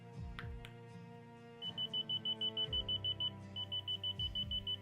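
Key finder object locator buried under a pillow, giving a rapid series of regular, muffled electronic beeps that begins partway through after a few soft handling knocks.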